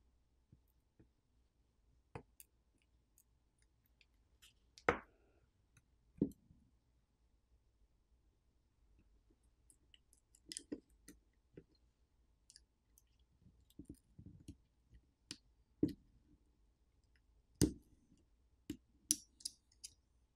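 Sparse small clicks and faint ticks sound as flex cables are unclipped and peeled away inside an Oukitel WP22 rugged smartphone, isolated sharp snaps spaced irregularly over near silence.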